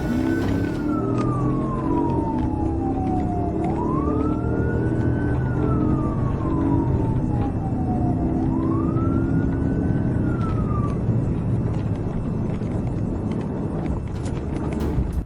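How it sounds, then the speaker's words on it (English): A police car siren wails in slow rising and falling sweeps during a high-speed pursuit of a gray Range Rover, heard over a steady roar of engine and road noise. "Robbins finally got behind the Range Rover, with emergency lights and siren on, the driver began to speed up"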